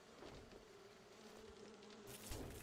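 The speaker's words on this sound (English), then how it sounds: "Oh, and I got attacked by bees." Bees in the survival game 7 Days to Die, a steady faint drone that lingers with a hovering, wavering buzz, alone and without talk, quiet.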